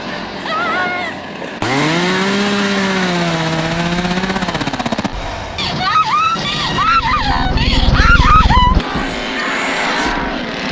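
A loud, buzzing chainsaw engine roar revs up and down, mixed with screams and dramatic film sound from the 1974 slasher film The Texas Chain Saw Massacre.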